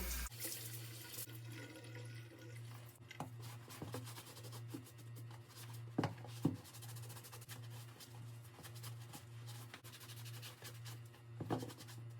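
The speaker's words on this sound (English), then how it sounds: "And I am rinsing the sponge in between." A sponge is rinsed under running tap water between scrubbings of a leather boot, the water flow faint and steady over a low pulsing hum, with a few sharper splashes.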